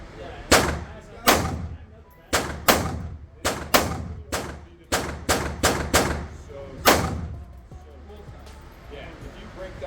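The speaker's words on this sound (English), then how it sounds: "let's go ahead and take some shots with the FN." About a dozen sharp, loud pistol shots from an FN 5.7 handgun at an outdoor range, fired in an uneven series of singles and quick pairs, each with a short echoing tail.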